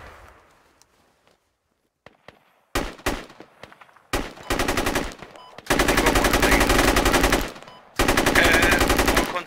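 Machine gun fire in the military shooter game Squad: a few scattered single shots, then sustained rapid automatic bursts, loud and close, with a brief break before a final long burst.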